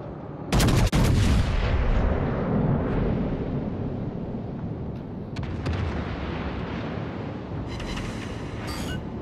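Naval gunfire from a warship in World of Warships: Legends, with a heavy close blast early on followed by a long rumbling, roaring wash of noise and scattered smaller bangs.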